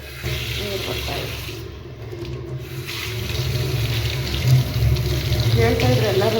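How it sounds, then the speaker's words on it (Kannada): Water runs from a tap into a large kitchen sink in a new housing unit, a steady rushing splash that grows slightly louder, with indistinct talk in the room. "ನೀರು ಬರ್ತಾಯಿದೆ."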